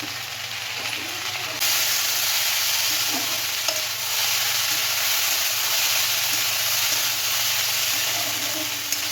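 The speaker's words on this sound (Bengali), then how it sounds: "আলু আর পেঁয়াজের ভাজার মধ্যে হলুদ দিয়ে দিচ্ছি" Steady, close sizzling of potatoes and onions frying in a pan, a broad hiss that jumps louder early on and holds evenly throughout with faint scraping stirs.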